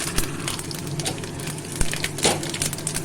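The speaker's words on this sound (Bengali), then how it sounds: "তেল গরম হয়ে এসেছে আমি ফোড়ন দিয়ে দেব ফোড়ন দিয়ে দিলাম" Whole spices crackle and pop as they hit hot refined white oil while tempering a cashew paneer curry, with steady close sizzling and a few sharper snaps.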